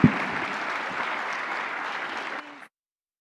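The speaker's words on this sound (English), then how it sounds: "a big round of applause to the 42nd President of the United States, Mr. Bill Clinton." An audience at a conference stage event gives loud sustained applause for former US President Bill Clinton, a dense even roar of clapping that cuts off sharply near the end.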